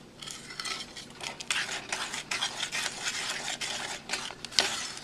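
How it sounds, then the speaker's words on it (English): A spoon scrapes and stirs a thick, sticky Scotcheroos mixture of sugar, syrup and peanut butter in a pot: a steady, close, rasping churn that continues without a break. "I'm going to start stirring. I've got the sugar, Scotcheroos syrup, peanut butter, and at first it's a really sticky, ugly, goopy mess."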